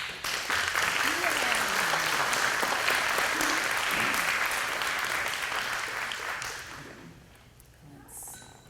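An audience applauds the summer reading program committee, a dense, sustained round of clapping that holds steady, then fades out over the last couple of seconds, with a few faint voices mixed in.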